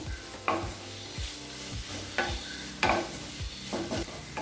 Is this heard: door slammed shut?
no